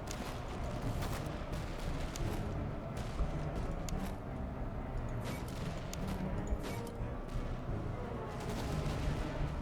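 Gunfire from a Napoleonic-era musket battle in Master of Command rings out as scattered, overlapping volleys of cracks over a steady rumbling battlefield din, fairly distant and continuous throughout.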